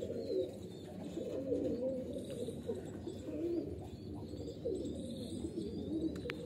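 A flock of domestic loft pigeons keeps up a dense, continuous low cooing throughout, many birds overlapping in a steady murmur close by.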